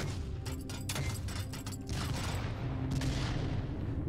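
Grenade launcher shots thud and boom in the video game Project Stray, several close, loud bursts in quick succession with mechanical clatter between them.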